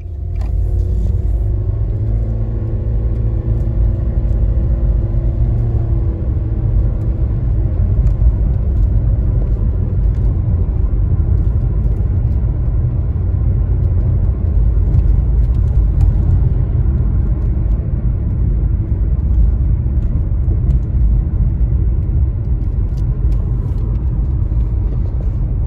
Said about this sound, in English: Okay, I'll take you for a test drive.